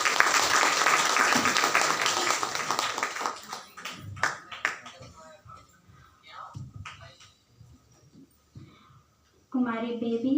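An audience at a Women's Day stage program at Sangamdham, Baltana, claps steadily, then the applause thins into scattered claps and fades before a voice starts speaking.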